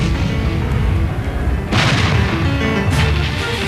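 Large-calibre breech-loading artillery cannon of the First World War firing, heard as a continuous loud, dense rumble with a sharp burst near the middle and another swell toward the end, no speech.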